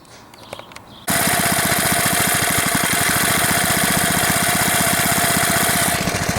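A Briggs and Stratton small engine that is not running well fires up after a second of quiet and keeps going, with a loud, steady rapid chugging and a constant mechanical whine up close.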